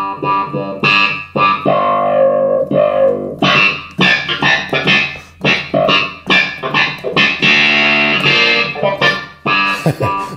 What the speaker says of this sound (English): We can add some distortion, which is really nice on the clavinet as well